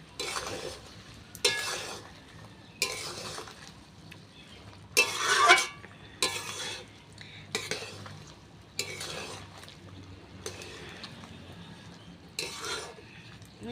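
Thick mango and jaggery pickle mixture being stirred in a pan, a series of scraping strokes roughly every second and a half, moderately close with a low background hum and no talking.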